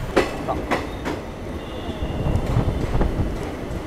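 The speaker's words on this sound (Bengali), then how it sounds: "নির্ধারিত সময় থেকে প্রায় 43 মিনিট দেরিতে আমাদের ট্রেন এসে পৌঁছালো ঝাড়খণ্ডের পাকুড় স্টেশন" The Sealdah–Agartala Kanchanjungha Express rolls into Pakur station in Jharkhand, running about 43 minutes late, with close, loud rumbling and clattering wheels, a few sharp knocks early on and a steady metallic drone.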